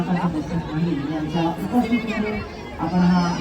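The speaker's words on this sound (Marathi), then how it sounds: "गर्दी जास्त आहे" Busy crowd at the Diva Mahotsav festival fair in Diva East, a dense babble of many voices close by with scattered shouts and children's calls, people chattering continuously all around.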